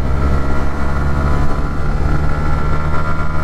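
A motorcycle engine drones steadily and loudly while the rider changes down from fourth into third gear, a continuous close engine note with wind-like rumble and no obvious break.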